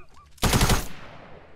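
A loud, rapid burst of automatic gunfire in Fortnite Season 5 fills about half a second before fading into a short echoing tail, with quiet game ambience around it.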